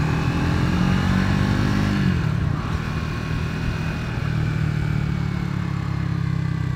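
Triumph Scrambler 400 X motorcycle riding, its engine note steady and loud and close throughout, with a pitch shift partway through as the single-cylinder engine changes speed.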